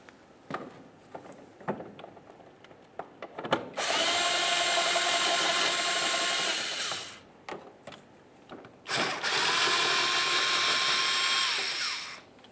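A power tool spins off three 8mm nuts holding the air suspension compressor to the wheel well of a 2003-2011 Mercury Grand Marquis; two long, loud whirring bursts, each about three seconds, separated by quieter clicks and shuffling.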